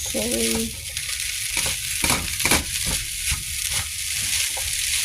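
Fried rice with Chinese cabbage, carrots, celery, salmon and abalone is stirred in a hot pan, giving a continuous sizzle broken by repeated scraping strokes of the utensil at a fairly regular rhythm, close and loud.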